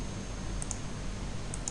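A computer mouse clicks while working in PTC Creo CAD software, two pairs of quick, light clicks spaced apart over a faint steady background hum.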